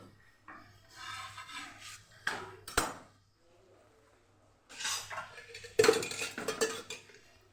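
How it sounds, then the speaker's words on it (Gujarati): A bottle-gourd thepla flatbread, Kathiyawadi style, is flipped on a hot griddle, giving a few short scraping and clattering bursts of utensil on metal, separated by quiet pauses. "હવે થેપલાની સાઈડ બદલાવી લઈશું"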